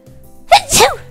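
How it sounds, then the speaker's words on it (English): A single loud close sneeze, a short sharp intake followed by an explosive burst, alone. "I'll feel like I need to sneeze."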